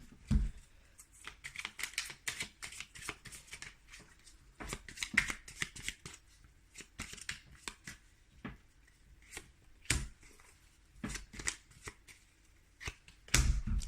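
Tarot cards are shuffled close up in rapid riffling bursts of papery flicks and taps, with brief pauses between runs and no talking.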